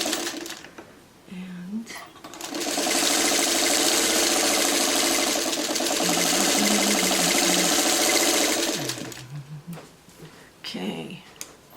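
A sewing machine stitches quilt block pieces for a coffee pot block, a fast, steady whirring run of several seconds that starts and stops, with someone talking quietly before and after.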